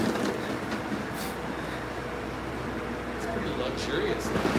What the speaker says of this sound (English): I guess this is the train, Peter.